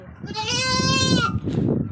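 A young goat gives one drawn-out, wavering bleat lasting about a second, close and loud, in a village setting, with a person's voice speaking briefly right after.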